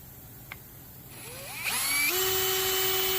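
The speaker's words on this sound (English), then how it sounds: "I'm just drilling out the head" A power drill spins up and bites into a hardened screw head on a Yamaha V Star motorcycle in a garage, its whine rising in pitch and then holding a steady, loud grinding tone.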